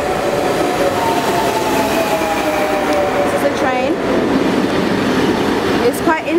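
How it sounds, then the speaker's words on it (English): A double-decker train rolls into a Paris station platform with steady rumble and a long descending squeal of brakes, plus a couple of brief higher screeches near the end, loud and close. "So it's a double-decker train"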